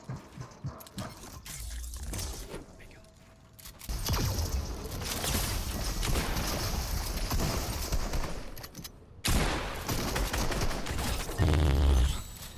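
Bursts of heavy weapon fire from a plasma cannon in Fortnite crackle in rapid volleys, loud and sustained with brief pauses between barrages.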